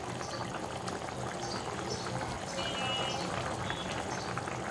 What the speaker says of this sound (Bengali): এই যে ঝোল দিয়েছি, বলক উঠে গেছে।